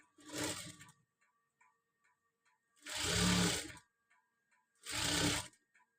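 A sewing machine stitches a cross belt in three separate bursts, each under a second long, with short quiet gaps between them where faint ticking can be heard.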